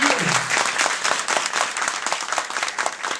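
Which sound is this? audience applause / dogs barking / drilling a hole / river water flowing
audience applause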